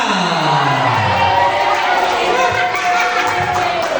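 A loud school crowd at SMPK Frateran Malang cheers and shouts for a student named Agnes Monica during a campaign event. The roar of young voices is sustained and close, with a few claps buried in the din.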